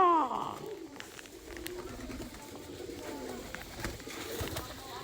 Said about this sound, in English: Hey there, sweet little pigeons.